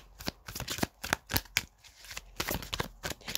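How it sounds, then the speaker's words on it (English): Tarot cards being shuffled by hand, a quiet run of crisp riffling and slapping bursts in an irregular rhythm with short pauses between them, close up and with no voices. "I will just shuffle one more time just to see if anything else was determined to come out."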